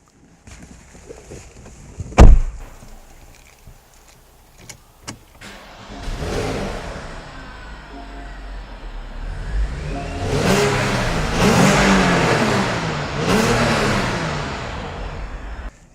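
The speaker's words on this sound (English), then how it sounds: "start it up, let you hear what the exhaust sounds like." A 2012 Porsche Panamera starts with a sharp crank, then its engine settles into a rising, throaty idle and revs through the dual exhaust, heard up close with no talking.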